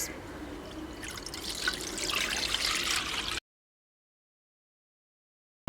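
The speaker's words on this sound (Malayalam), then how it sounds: "അതിലേക്കൊരു അഞ്ച് കപ്പ് പാൽ ഒഴിച്ച് കൊടുക്കാം" Five cups of milk poured into a pan for an evening snack, a steady liquid trickle and splash heard close for about three seconds, then silence.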